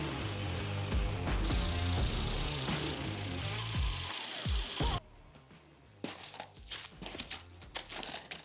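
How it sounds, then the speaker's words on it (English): A power drill whirs loudly into wood for several seconds, then stops, followed by scattered clicks and handling noises. "now we're gonna go a little bit deeper. Drill these holes a little bit deeper."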